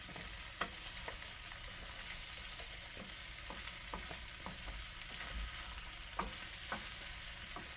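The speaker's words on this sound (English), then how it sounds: "Let me stir it around though." Potatoes fry in a pan with a steady soft sizzle while a utensil stirs them, scraping and tapping against the pan in scattered knocks over the crackle.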